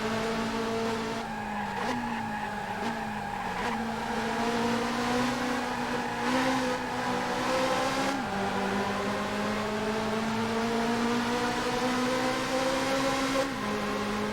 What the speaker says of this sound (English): Try braking late.